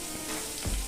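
Bay leaf, asafoetida, cumin and cloves fry in hot oil for porridge, making a steady close sizzle that ends in a louder spattering burst.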